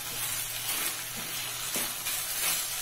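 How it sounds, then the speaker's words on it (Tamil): Fried eggs are stirred through sauce in a hot pan, a constant sizzle and hiss with a few faint scrapes of stirring, close and alone. "முட்டையில சாஸ் எல்லாம் கலக்கிற மாதிரி கிளறி விட்டுக்கணும்."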